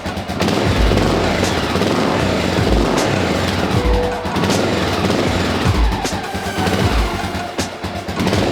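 A Honda XR650L motorcycle engine runs close by after the choke is taken off, keeping up a rough, loud, uneven throb with a few sharp bursts of revving.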